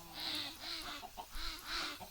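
Chickens and ducks on a farm in the game Minecraft give a short run of repeated clucks and calls, fairly close and clear, with no talking.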